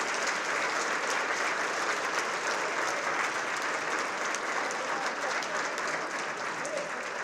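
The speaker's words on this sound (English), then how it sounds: "And one more round of applause, please, for our 2022" Sustained audience applause fills a banquet hall at a press freedom award dinner, a dense steady clatter of many hands clapping at even loudness throughout, with no speech over it.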